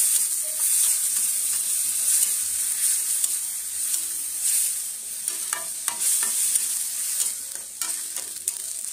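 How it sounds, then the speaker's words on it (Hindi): Masala with jhudanga seeds fries in a pot, a loud bright continuous sizzle with intermittent scraping and stirring strokes of a spoon close by. "मसलाटा को आम झोड़ंग मंजी सहित मिक्स करना"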